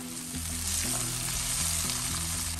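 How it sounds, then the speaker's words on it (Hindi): Tomatoes and onions for cabbage gosht fry loudly in a pan, a dense, steady close sizzle with low rhythmic bubbling underneath, and no talking. "3 से 4 मिनट फ्राई करने के बाद अब हम इनमें ऐड कर देंगे अपने बारीक लंबे कटे हुए"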